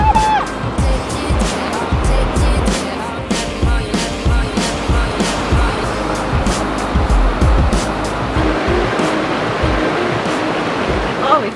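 Water of a creek at a campsite flows steadily, with a continuous rushing wash and small splashy bursts throughout, close by and fairly loud.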